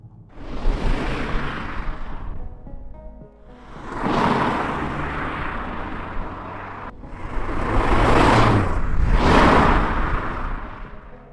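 A VW Golf GTI Clubsport hot hatch sweeps through tight, twisty roads, passing in repeated swelling whooshes of engine and tyre noise that rise and fade, with brief lulls between.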